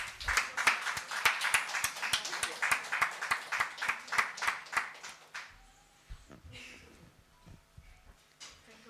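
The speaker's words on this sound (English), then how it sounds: "Can we have a huge round of applause?" Steady, rhythmic clapping from an audience at a literary talk carries on for about five seconds, then dies away into quieter room noise.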